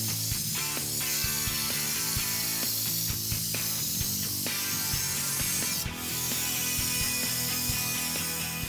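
Spray gun applying U-POL Raptor black bedliner coating to a bumper, a continuous hissing spray broken by a brief pause, with intermittent clicking and rattling handling noises over it.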